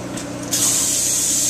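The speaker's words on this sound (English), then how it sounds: "they're gonna spray all those areas where we've got some wood-to-wood connections" Spray foam insulation hissing out onto wood sill plate connections, a sudden steady spray starting after a half second and continuing close and even to the end.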